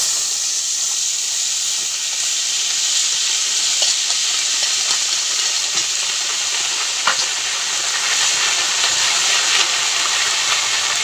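Dried red chili, cumin and ginger pastes frying in a pan for mutter paneer, giving a loud, constant sizzling hiss with faint sputters and occasional light spoon taps throughout.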